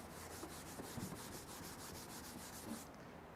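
A quiet, steady scratchy rubbing, a hand dragged across contaminated car paint in quick repeated strokes, stopping near the end.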